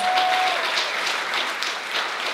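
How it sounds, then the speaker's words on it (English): A crowd applauding steadily, many hands clapping in a dense, even wash of sound throughout. "give her a big round of applause"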